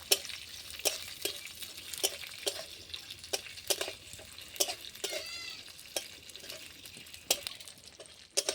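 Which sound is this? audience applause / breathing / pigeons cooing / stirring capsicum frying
stirring capsicum frying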